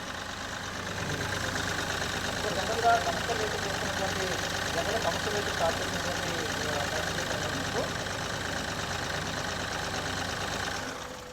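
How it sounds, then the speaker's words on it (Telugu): A 2024 Mahindra Veero pickup truck's engine idles with a steady, even diesel-like hum and faint knock, running continuously close by before cutting off at the end. "ఒకసారి అయితే ఇంజిన్ నాయిస్ వినండి"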